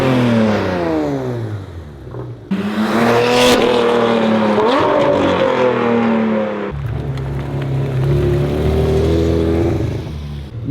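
A Porsche 992 GT3 RS flat-six fitted with a titanium exhaust revs hard and loud, its pitch climbing in sharp rising sweeps with a brief drop and renewed surge, close and without talk.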